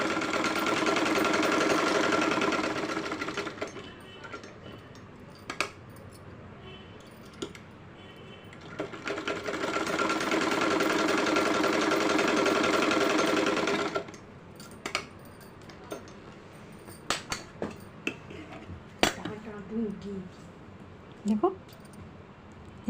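A sewing machine runs steadily in two long bursts while stitching a doll's dress for a small Kanha idol, followed by brief clicks and handling noises as a person speaks.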